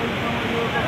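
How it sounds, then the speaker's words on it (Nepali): The flooding Kankai river at Domukha rushes past in a loud, continuous broadband roar of churning water, close and unbroken throughout. "हामीले जन्मेदेखि अहिलेसम्म थाहा पाएको सबैभन्दा ठुलो बाढी आएको छ।"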